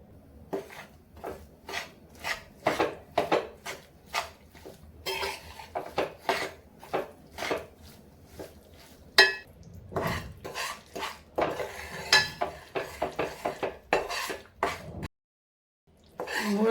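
Jaggery powder being stirred in a pan to melt, a spoon scraping and clinking against the metal in a steady series of close, fairly loud strokes, with a few short pauses and no talking.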